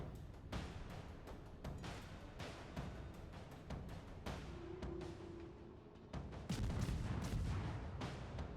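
Ship guns firing in a World of Warships-style naval battle game with a Pensacola cruiser and a Shinonome destroyer: repeated loud booming salvos in a steady rhythm, with a heavier burst near the end.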